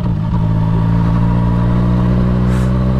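A motorcycle engine runs close by with a steady, loud low drone and a faint clattering edge, holding an even idle-to-cruise note throughout.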